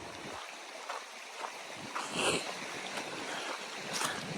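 Small creek flowing beside a hiking trail on the Appalachian Trail, a steady rushing water hiss running throughout, with a person speaking briefly over it.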